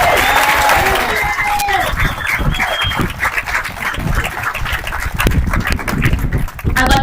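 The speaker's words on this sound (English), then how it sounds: "Give yourselves a round of applause." Graduates at a 2021 Galena graduation ceremony clap and cheer, a dense, steady wash of applause filling the whole stretch, with voices and whoops mixed in.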